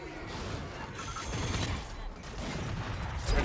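Gunfire in a Valorant match comes as a rapid, dense burst of shots and mechanical clatter, loud and close, rolling on without pause for a few seconds.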